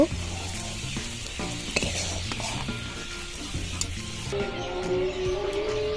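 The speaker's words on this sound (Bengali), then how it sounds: "ডিমগুলো দিয়ে আমি ভালো করে নেড়ে চেড়ে দিচ্ছি" Eggs sizzling loudly in a pan as they are stirred for an egg paratha, giving a continuous close hiss with scraping utensil taps across the whole stretch and no voices.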